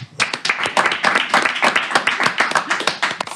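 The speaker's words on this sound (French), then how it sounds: "on pratique ici l'applaudissement de confiance" Close, loud clapping from a small studio audience at a live music radio show, brisk and somewhat uneven claps from a modest number of hands, with no talk over it.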